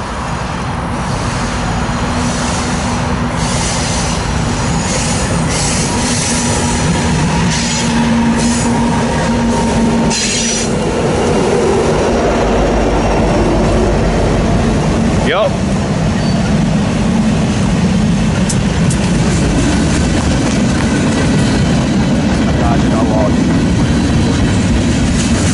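Freight train rolling past on the eastbound main of the Harrisburg Line, a steady loud rumble of wheels and cars with faint squeals and clatter throughout, close by.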